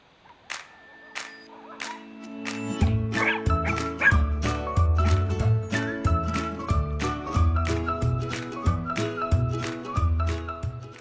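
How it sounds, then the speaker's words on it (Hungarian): Many dogs at a boarding kennel on the edge of Székesfehérvár bark and yip loudly and repeatedly, in overlapping bursts that build after a few sparse early barks and keep going close by. "sok nagyon jó fejkutya van a háttérben, és hangosak és aktívak"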